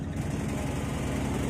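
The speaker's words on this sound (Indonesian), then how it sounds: "sudah dingin, sudah kokoh dan kita masukkan ke dalam mesin pemotong" An electric bread-slicing machine cutting a cooled loaf of white bread: a loud, steady motor drone with a rhythmic, vibrating low hum that holds evenly throughout.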